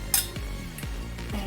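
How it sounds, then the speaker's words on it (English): A spoon scrapes and clinks against a pot while boiled lentils are stirred into lamb biryani, with a few soft scraping strokes and one small clink, close and quiet. "I'm going to mix this in and let this cook for a further 5 minutes"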